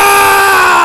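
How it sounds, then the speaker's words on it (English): A man's loud, sustained scream, shrill and unbroken, rings close and fills the entire moment in a comedic cartoon parody scene. "Why are you screaming"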